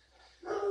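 Dogs burst into barking partway through, fairly close and loud after a near-silent start, with a short run of barks to the end.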